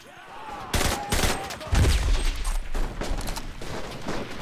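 Bursts of machine gun fire in the World War II shooter game Enlisted, dense rattling volleys loud and close, with faint voices of players under the shooting.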